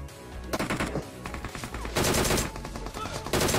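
Rapid, loud bursts of SKS rifle fire in PUBG Mobile in overlapping volleys, shots crackling almost continuously through the whole stretch.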